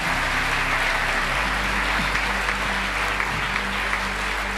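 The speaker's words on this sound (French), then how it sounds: "let's clap for this young man" A church congregation applauds a young preacher, giving steady, dense clapping from a large crowd that holds at an even, loud level throughout.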